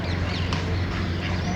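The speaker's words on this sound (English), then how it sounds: "Ducks." Ducks quack in a cluster nearby in Seville, Spain, over a steady outdoor background hum, several overlapping calls in a short burst.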